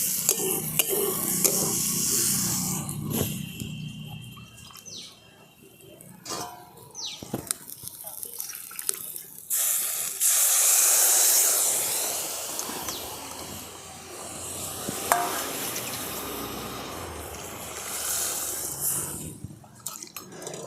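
Water is poured into shyama rice frying in a pan for khichuri, setting off a loud hissing sizzle midway, with stirring and scraping before and after and a voice talking throughout.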